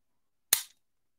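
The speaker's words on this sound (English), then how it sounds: "That was the clicking of me pulling the trigger." The trigger of a 10 mm pistol gives a single sharp, close click that ends almost at once, with silence before and after.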